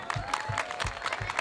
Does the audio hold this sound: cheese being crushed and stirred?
no